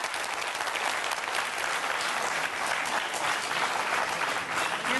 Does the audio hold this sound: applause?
yes